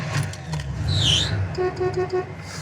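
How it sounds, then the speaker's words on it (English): The horn of a 1978 Camaro Z28 gives a series of short beeps at close range over an idling engine and cabin noise. "Horn."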